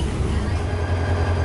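Malayan Railway train rolling along the southern line in Johor, a steady close rumble of wheels and carriage with no break, heard from inside the train.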